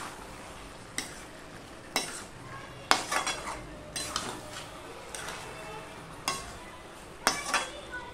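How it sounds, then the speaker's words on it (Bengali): A spoon stirs a raw chickpea and vegetable curry with fresh coriander leaves in a pan, giving sharp metallic clinks and scrapes about once a second over a soft sizzle, close by with no voices. "ধনেপাতা দিয়ে ভালো করে নেড়ে চেড়ে"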